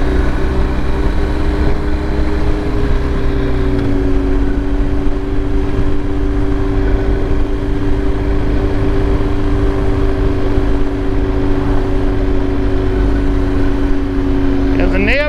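A 2023 BMW R 1250 GS Adventure engine lugs at low revs in third gear through a turn. It gives a steady, loud, low drone with a constant hum and wind rush, close and unbroken for the whole stretch.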